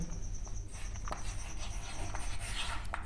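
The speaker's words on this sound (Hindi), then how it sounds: "एक सेंटेंस लिखते हैं" A pen scratches across paper as a sentence is written by hand, with faint, close scribbling strokes and small taps over a quiet room hum.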